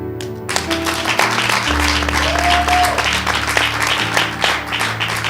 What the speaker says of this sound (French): Et ces acclamations